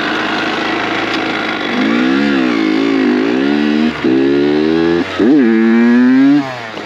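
A motorcycle engine runs steadily nearby, its pitch rising and falling with several short revs and gear changes, loud and continuous with no talking.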